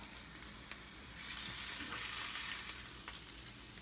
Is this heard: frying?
yes